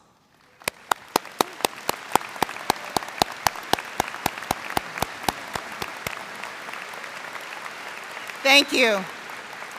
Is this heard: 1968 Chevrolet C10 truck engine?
no